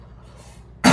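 A single loud cough bursts out near the end after a quiet stretch of low engine-like hum, close and sudden.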